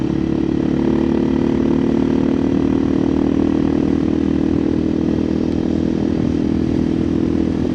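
A 2024 KTM EXC-F 500 TPI motorcycle with an FMF muffler and tuned stock ECU, heard riding with a steady, loud, continuous engine drone and clatter throughout, no talking.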